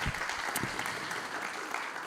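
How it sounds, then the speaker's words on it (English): An audience at a 2022 EuroPride human rights conference in Belgrade gives a panelist a round of applause. The steady, moderately loud clapping fills about two seconds. "A round of applause to Goran there"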